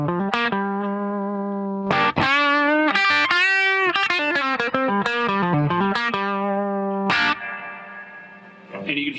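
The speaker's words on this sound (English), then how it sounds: "That's how I like my reverb when I'm just farting around here." Electric guitar played through a Spirit Box DIY reverb pedal, a series of picked melodic notes and chords ringing out with a subtle reverb tail, loud and close with no talking.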